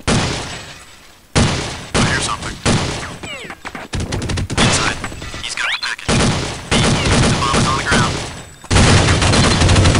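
Bots fire on a shield in Counter-Strike Condition Zero: loud, close bursts of rapid automatic gunfire, repeated several times with short abrupt gaps between volleys.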